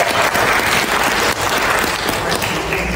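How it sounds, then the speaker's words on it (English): Church congregation at a Sunday Methodist service applauding for an elderly member's upcoming 90th birthday; steady, dense clapping fills the room for the full stretch without a break. "Let's give her a hand of applause."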